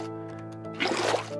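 Water is poured into place in Minecraft to build a 2x2 infinite water source, a brief splashing gush rising over a steady background tone, close and moderately loud.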